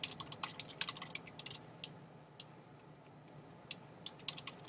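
Quiet, irregular typing on a computer keyboard, with bursts of rapid key clicks separated by brief pauses, close and alone.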